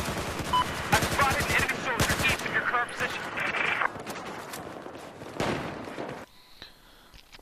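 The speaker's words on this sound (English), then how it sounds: "I'm taking down enemies pretty quickly with the gun" Rapid bursts of automatic gunfire from the Battlefield 4 beta, loud and close, with short pauses between volleys and a near-silent stretch toward the end before a final shot.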